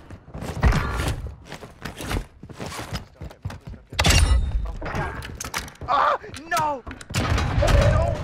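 Olympia shotgun blasts in Warzone 2 gameplay, several loud, punchy shots fired in an irregular sequence, mixed with other game noise and a voice talking in between.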